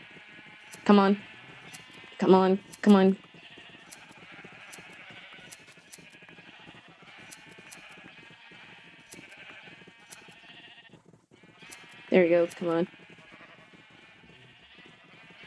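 Sheep in the video game Minecraft bleat in short bursts, two close together early and a pair near the end, heard over a steady game background hum while a person talks.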